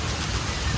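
Rain falling steadily, a dense and even hiss that fills the short moment with no voices.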